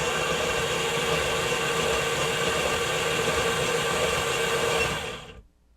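Motorized wheel assembly of a 3D printed droid running under power, a steady mechanical whir with a harmonic hum that holds evenly for about five seconds, then cuts off abruptly.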